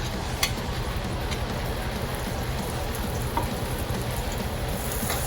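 Crushed garlic cloves and chorizo frying in a paella pan, giving a steady, close, crackling sizzle with occasional sharper pops throughout.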